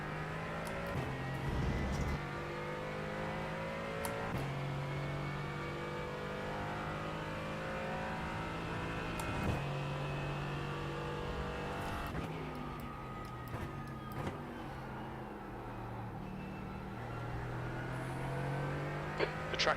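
Race car engines roaring around a road course in a racing video game, a continuous loud engine drone with rising and falling pitch as the car shifts and accelerates, and another car's engine joining in partway through.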